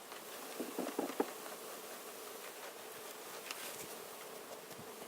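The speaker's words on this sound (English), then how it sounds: "So that's what we're going to do, dump some bees." A dense, steady buzzing of many honeybees from a package being dumped into a hive, with a few soft thumps and patters early on as they tumble down, no voices.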